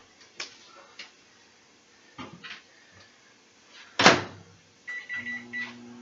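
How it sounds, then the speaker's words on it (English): A microwave oven reheating beefy shells and cheese gives off scattered clicks and knocks, then a sharp clunk followed by a steady hum and beep-like tones near the end, close with no voices. "I'm just going to toss this back in the microwave for about another minute"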